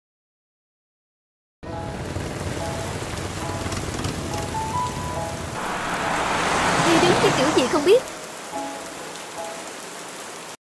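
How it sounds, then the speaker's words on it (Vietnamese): Heavy rain falls during flood days, a steady loud downpour that starts abruptly and hisses continuously, with a person speaking briefly over it. "Những ngày mưa lụt."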